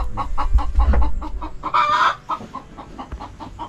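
Chickens clucking in a Philippine farmyard, a rapid series of close, repeated clucks with a louder squawking burst near the middle, over a low rumble early on.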